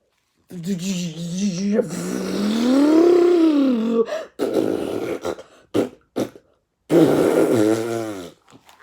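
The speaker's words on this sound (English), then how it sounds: "The distinctive sound of a bottom burp." Comic hippo fart sound effects: a long, wobbling, rising and falling trump, then several short sputtering bursts and a final loud, rippling blast. All are close and loud, with no talk over them.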